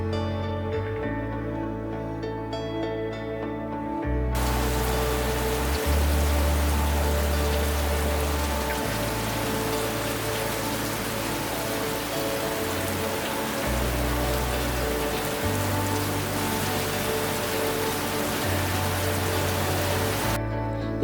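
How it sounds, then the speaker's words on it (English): Steady, dense rain pours down in the Colombian mountains, a loud continuous wash of drops on surfaces with a low droning hum beneath, holding constant and close for the whole stretch with no voices. "The clouds give way to rain just about every day"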